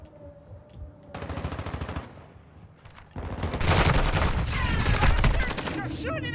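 Rapid automatic gunfire from a Call of Duty: Modern Warfare II match: a burst of shots, a brief lull, then a longer, louder sustained volley of close fire with faint voices mixed in.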